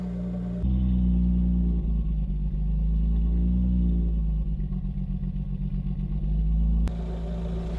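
A multi-cylinder engine runs just after being started with the choke on, a loud steady close idle with rapid clattering pulses, bracketed by short bursts of other noise at start and end.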